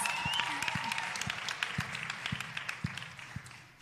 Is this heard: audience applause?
yes